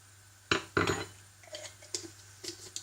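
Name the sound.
mixing garam masala and spices in a pot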